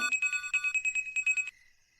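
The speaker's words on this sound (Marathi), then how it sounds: "एवढ्या रात्री कोणाचा फोन आलाय?" Electronic telephone ringtone trilling at night in rapid repeated pulses for about a second and a half, then cutting off into quiet; close and fairly loud.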